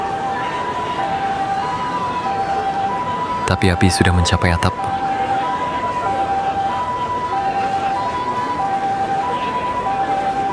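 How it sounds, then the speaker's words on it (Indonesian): A fire engine siren wails in a steady two-tone pattern as the truck arrives at a burning nursing home in Manado. A brief burst of speech briefly cuts in partway through. "Pemadam kebakaran tiba."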